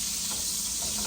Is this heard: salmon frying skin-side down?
yes